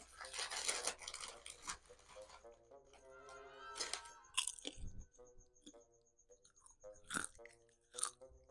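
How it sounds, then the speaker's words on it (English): Stale, extra-large-kernel cotton candy flavored popcorn is bitten and chewed close to the mic, giving soft irregular crunches and munching spread over several seconds, with a bag rustling at times. "I feel like you guys can tell that's not crunching the way that it should be crunching."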